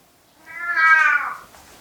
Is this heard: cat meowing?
yes